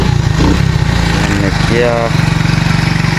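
A motorcycle engine starts and settles into a steady, close idle with a rhythmic putter, with someone talking over it.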